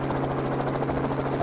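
Helicopter in flight in a visual novel game, a steady continuous rotor drone with low engine hum, loud and even throughout with no speech over it.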